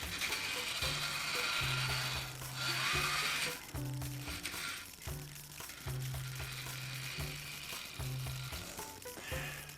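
A United HOn3 brass Colorado and Southern Consolidation model locomotive motor runs roughly, giving an uneven, stuttering mechanical whir with repeated clicking pulses and hiss, close and steady throughout.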